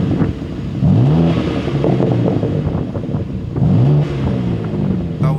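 A BMW G87 M2 fitted with an Akrapovic titanium slip-on exhaust drones and roars nearby, with two rising rev sweeps amid a loud, steady engine note and wind buffeting.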